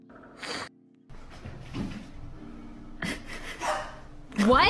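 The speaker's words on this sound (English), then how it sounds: "that that cat actually barked" A cat barking like a dog gives a short bark, with panting and breathing sounds and people talking around it indoors in bursts separated by brief quiet.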